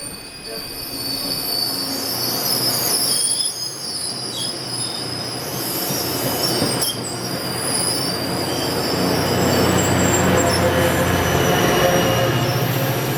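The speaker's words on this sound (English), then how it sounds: "the first train that I'm going to take today is Caltrain's 804 Limited number 221" The Caltrain 804 Limited runs with loud, persistent high-pitched wheel squeal over a steady rolling rumble, growing stronger toward the end, heard from on board.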